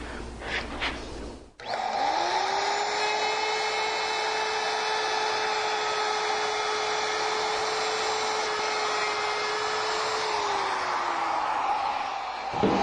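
A wood router fitted with a bearing-guided bit cuts along a wooden piece, giving a steady, loud high-pitched whine that holds evenly for about ten seconds before winding down.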